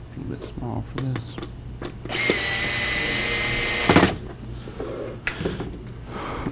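A power drill drives screws into a homemade three-string panjo in one loud two-second run, with someone talking before and after.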